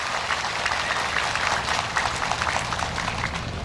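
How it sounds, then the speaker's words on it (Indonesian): Applause from an audience of alumni at a large Islamic religious gathering and reunion, a steady dense wash of many hands clapping at full volume for the whole stretch, with no voices over it. "Tepuk tangan tuh para alumni PKPNU."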